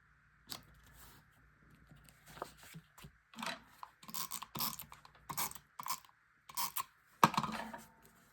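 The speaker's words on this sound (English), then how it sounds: "I'm really trying to get through this tape runner." A tape runner is pressed and pulled across a fall apple-picking scrapbook layout. Quiet, close rubbing strokes and small clicks come in short separate bursts with pauses between them, and nobody speaks.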